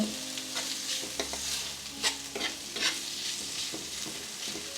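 Beans frying in a pan for a beans omelette, stirred with a utensil; a steady soft sizzle runs throughout, broken by sharp scraping taps of the spoon against the pan, close and alone with no voices.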